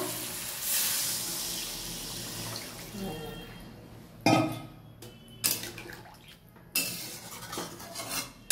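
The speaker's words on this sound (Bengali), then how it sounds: "এবার জল দিয়ে দেবো।" Water pours into a cooking pot of fish curry with potatoes in a home kitchen, a hissing splash at first, followed by several sharp metallic clanks of pot and utensils.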